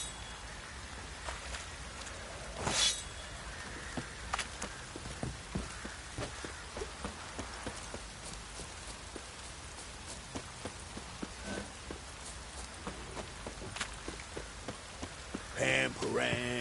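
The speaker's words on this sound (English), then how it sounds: "Oh, it's drizzling." Light rain drizzles in a game scene, a soft steady patter of scattered drops with occasional louder taps, faint and close, with brief other noises near the end.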